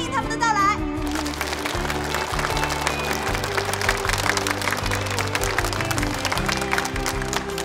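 Audience applause welcoming the teams at the final of an international university debate competition, steady and sustained clapping from a large crowd that fills the room, with a brief voice at the very start.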